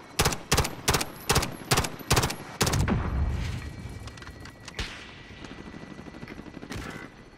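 Call of Duty Warzone gunfire in a Plunder match: a loud, close volley of about eight evenly spaced heavy shots, then scattered quieter distant fire and a reverberant tail.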